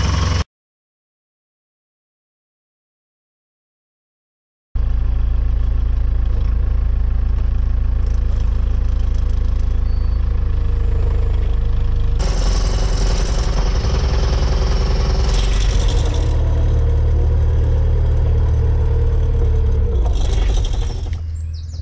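A telehandler clearing out a silage pit drives along, its loud engine droning steadily after a silent opening and rising into harsher revving bursts partway through.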